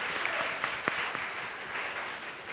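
An audience at a university math fair claps steadily in a moderately loud, even round of applause, with a few sharper claps standing out.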